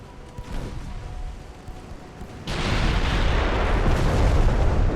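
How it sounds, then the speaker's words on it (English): Warship secondary guns open fire in the naval game Ultimate Admiral: Dreadnoughts, a dense, loud barrage of booming shots kicking in suddenly midway and rumbling on without pause. "Now the secondaries get to open up"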